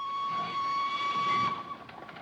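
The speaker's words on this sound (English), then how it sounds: "train's departure from the station." A steam train's whistle sounds as it departs a station in a 1935 film, one sustained shrill blast that cuts off into rumbling rail noise.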